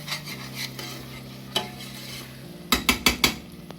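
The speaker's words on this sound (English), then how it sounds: "Give it a stir." A spoon stirs khari, a yoghurt curry, in a pot with softening onions that stick slightly to the bottom. Scrapes come over a steady low sizzle, with a quick run of four sharp scraping strokes near the end.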